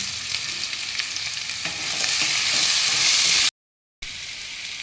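Potatoes sauté in a pan with turmeric and salt, a dense, steady sizzle that swells slightly as they are stirred, close and loud, ending in a brief dropout.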